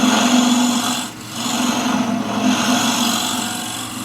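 A scraper cuts a wide-rimmed wooden dish spinning on a lathe, giving a steady, loud rasping hiss with a low motor hum beneath, briefly easing off before resuming.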